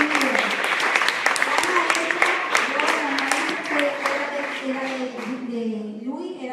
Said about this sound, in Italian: Wow, un applauso.